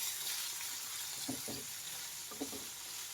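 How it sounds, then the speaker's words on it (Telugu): Mutton liver frying with onions in a pan, a steady soft sizzle with a few brief scraping stirs partway through, fairly quiet and with no talking. "ఆ మటన్ లివర్ని అంతా మనం వేసుకోవాలి ఇందులోని వేసుకుని అసలు బాగా కలుపుకోవాలి"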